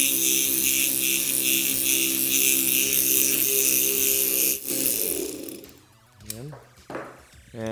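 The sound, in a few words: FlapSpeed PRO grinder running up to 4,000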